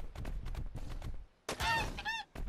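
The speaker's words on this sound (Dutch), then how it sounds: "Hij komt op ons af, die kip!" A chicken in the video game ARK Ragnarok gives a burst of loud, nasal honking clucks, two squawks close together after a stretch of rustling game sound and footsteps.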